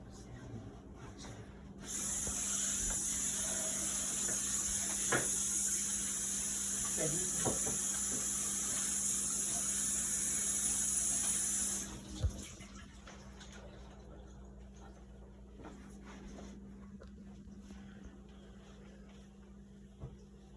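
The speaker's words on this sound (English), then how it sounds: "Wash my hands real quick." A kitchen tap runs hard for about ten seconds as hands are washed under it, a loud steady hiss with a few clinks, then stops, leaving quiet room tone.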